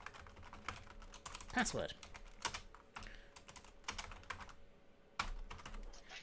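Someone types server details on a computer keyboard, a close, irregular run of clicking keystrokes with a few louder taps, while a voice speaks briefly.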